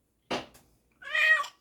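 A cat gives a short, sharp sound, then after a brief pause a clear, tonal meow, both close and fairly loud against near silence.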